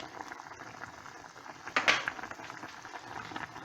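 A pot of pork and vegetables simmering on the stove, giving a faint, steady bubbling with a brief louder gurgle partway through.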